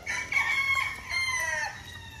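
Roosters crow at a game farm chicken pen in a long, loud, drawn-out call of about a second and a half, with a second fainter crow rising and trailing off in the background.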